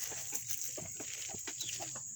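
Small chickens cluck softly in short, scattered bursts, fairly close but quiet, over a steady high-pitched background hum.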